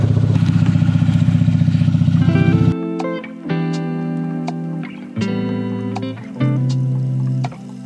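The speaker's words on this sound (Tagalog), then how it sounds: "so nag-hard start pa rin" A motorcycle engine with a hard-starting problem roars loudly at first, then cuts out; several sputtering attempts follow as it struggles to catch and idle, close up.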